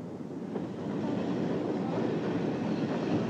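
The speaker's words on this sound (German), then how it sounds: "Z Basel müssen Heidi und Sebastian in einen anderen Zug einsteigen" A radio-play train sound effect of a train running, heard as a steady, dense rumble and rattle of rolling rail cars, moderately loud and unbroken throughout.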